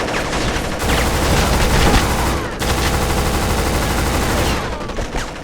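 Heavy, rapid automatic gunfire from a PS2 demo shooter game, loud and continuous for several seconds with only a brief pause in the middle before the firing resumes.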